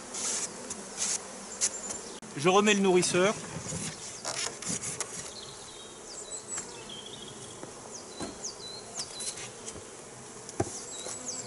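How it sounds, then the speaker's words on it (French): Honeybees buzzing around an open hive during spring swarm-splitting work, a continuous insect hum with wooden rubbing and clicking from handling, and a person speaking briefly in French. "je fais remonter toutes les abeilles"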